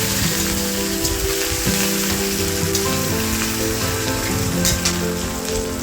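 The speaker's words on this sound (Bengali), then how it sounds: "এবার দিয়ে দিচ্ছি জিরে, শুকনো লঙ্কা, দিয়ে দিচ্ছি কালো সরষে এবং দিয়ে দিচ্ছি কারি পাতা" Cumin, dried chillies, black mustard seeds and curry leaves crackling in hot oil: a loud, steady, close sizzle with spitting pops and faint stirring, tempering spices for chirer polao.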